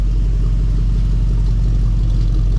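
A freshly rebuilt 4.7 engine in a Jeep Grand Cherokee WJ runs steadily, a loud, close, even idle rumble with a constant low throb throughout.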